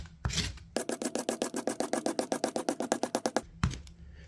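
Scissors make quick cuts at 45-degree angles through squares of material to create confetti, a rapid, even series of about twenty crisp close snips.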